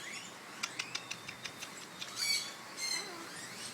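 A pet parrot makes a quick run of sharp chirps and clicks, then a couple of longer squawks, close by with no talking over it.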